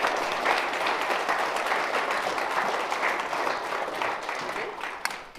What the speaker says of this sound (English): Let's give a round of applause for Tara.